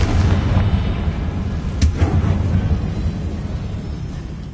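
Spell explosions from the Bombarda and Confringo charms in the Hogwarts Legacy video game make a low rumbling blast with a sharp crack near the middle, followed by a rolling, fading boom.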